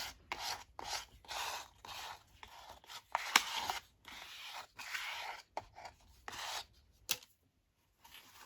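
A card scraping and smushing paint across an altered book journal cover, in repeated rough rubbing strokes with short pauses between, close and fairly quiet.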